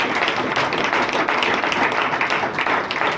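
A church congregation applauds in a steady, loud, dense wash of clapping that continues throughout.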